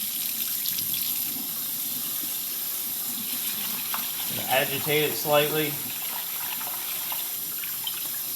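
Water runs and swishes in a kitchen sink as rice is rinsed and agitated, a steady stream with a few louder gurgling pours near the middle, while a person talks.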